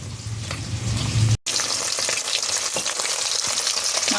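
Hilsa fish sizzles steadily in hot oil in a pan, a close, loud continuous crackling fry with a brief cut partway through.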